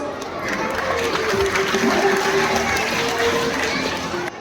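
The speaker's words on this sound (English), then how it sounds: "So welcome ma'am with a round of applause." Audience at a school Guru Purnima celebration in Kolhapur applauds to welcome a PTA member to speak, a steady dense wash of clapping and crowd noise lasting throughout, fairly loud with no voices standing out.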